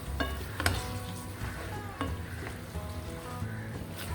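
Basil being stirred into shrimp pasta in a pan, with a steady soft sizzle and scattered light scrapes and clinks of a utensil against the pan, fairly quiet throughout.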